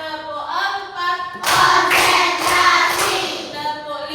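Students in a classroom ice-breaking game clap their hands in short rhythmic bursts, layered with group chanting voices, close and fairly loud for a few seconds.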